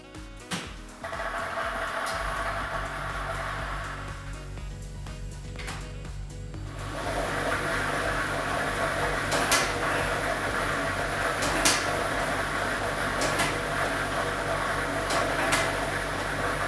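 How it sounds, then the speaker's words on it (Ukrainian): A lottery ball drawing machine runs with a steady whirring roar and a rattling churn of balls, broken by a few sharp clicks and knocks. "І ми вмикаємо лототрон."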